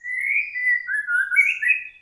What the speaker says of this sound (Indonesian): Nah ini burung teman-teman